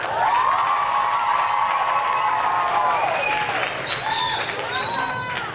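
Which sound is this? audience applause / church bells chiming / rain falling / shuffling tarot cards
audience applause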